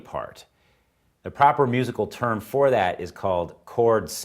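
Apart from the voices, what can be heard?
No distinct noise like a dog, phone or traffic.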